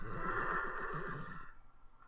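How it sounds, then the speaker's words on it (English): A horse neighs in the video game Horse Racing 2016, one long, loud whinny with a wavering pitch that ends abruptly, leaving a faint quiet tail. "I'm really glad we got this horse ambiance."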